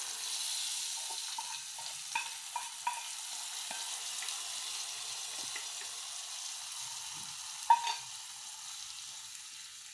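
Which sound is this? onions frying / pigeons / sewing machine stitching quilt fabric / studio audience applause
onions frying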